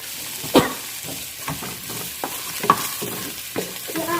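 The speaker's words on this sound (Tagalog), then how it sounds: "Nagluto tayo ng sausage. At gigisa lang natin." Sausage sautés in a pan with a soft sizzle beneath a run of sharp scrapes and taps from a utensil stirring it, spaced unevenly.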